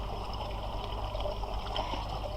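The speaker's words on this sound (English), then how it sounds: "just pour about that much into the glass" Pure alcohol pours from a freshly opened bottle into a glass in a steady, close trickle lasting a couple of seconds.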